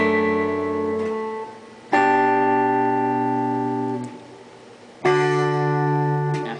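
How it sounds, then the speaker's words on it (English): A guitar plays O Come All Ye Faithful: the 5th string is plucked, then the 1st and 2nd strings together. Three clear plucked notes ring out and decay in turn, close and alone. "you pluck the 5th string, and then you pluck at the same time 1 and 2."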